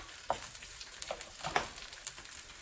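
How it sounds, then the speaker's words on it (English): Okonomiyaki, a savoury Japanese pancake on a crepe base, sizzling quietly in a hot pan just after flipping, with soft crackles and occasional sharper pops, close and faint, no voices. "I'll give it a quick flip so this crepe at the bottom can cook a little bit longer."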